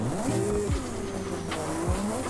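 A Nissan GT-R R32 with no driveshaft starts and runs in the BeamNG.drive game, its engine tone rising and falling through quick revs, with a faint squeal-like whine layered over the steady mechanical drone.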